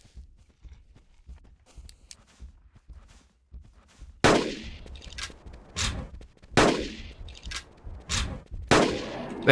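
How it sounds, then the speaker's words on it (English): Rifle shots from a C1 rifle fired at a Carnotaurus in the game Carnivores Genesis: about four sharp, loud reports with ringing decay after a quieter stretch of footsteps and faint clicks, no talking. "So it looks like 3 shots from the C1 rifle is what it takes to get down a Carnotaurus."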